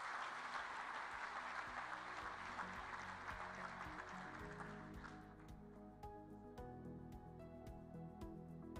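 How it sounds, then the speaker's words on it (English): Faint applause from a business forum audience at the Commonwealth Business Forum opening ceremony, a steady patter of clapping that thins out midway as music-like tonal sounds take over. "A warm round of applause as she comes up,"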